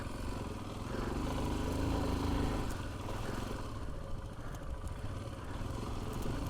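A Royal Enfield Himalayan 411 motorcycle labors uphill off-road in first gear, its single-cylinder engine thumping loud and close with a steady, slightly strained rumble throughout.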